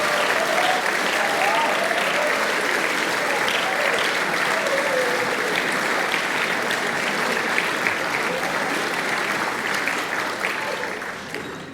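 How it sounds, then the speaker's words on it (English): A large audience at a partsong competition gives sustained, dense applause to welcome a guest, steady and loud for the full stretch before fading slightly at the end. "please give him a massive round of applause and a warm welcome"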